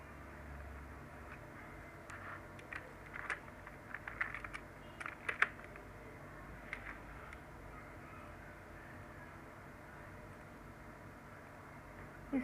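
Computer keyboard typing while writing text for a Photoshop flyer, sparse quiet clicks in short bursts over a faint room hum, with crows cawing faintly in the background.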